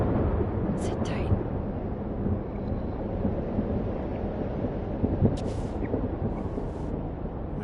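A thunderstorm rages in the video game Life is Strange: Double Exposure, a constant low, heavy rumble with rain and wind noise, steady and enveloping, with a few faint higher crackles.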